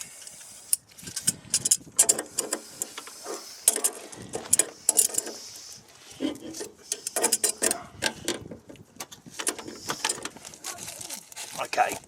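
Grips working a fitting loose on a Grant boiler being checked for lost pressure: close metallic clicks and scraping ratchet-like turns come in irregular bursts, with quieter gaps between them.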